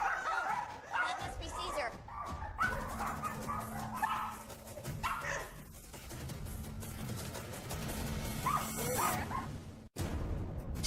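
Poodles bark and yip repeatedly in short bursts, with whimpering between them, close and fairly loud over a low hum, while people talk at the same time.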